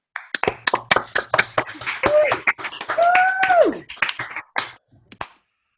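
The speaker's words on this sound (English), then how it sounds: "let's all make a Shechianu and give a quick round of applause for everyone involved" A small group claps in a short, uneven round of applause for a 2020 concert, with distinct individual hand claps close to the microphone and a few vocal sounds mixed in before it fades out.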